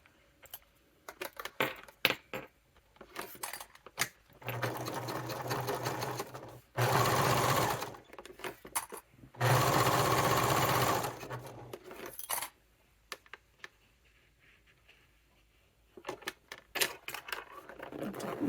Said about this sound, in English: And I'm increasing the stitch length just a little more while I baste it.